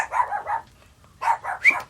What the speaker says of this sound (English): That's our guard dog, y'all.